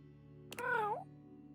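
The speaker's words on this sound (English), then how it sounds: "A small creature that looks rather like a black cat rubs up against Mateo's leg, meowing for his attention." One clear, drawn-out meow from a nearby cat, rising then falling, over a low steady hum.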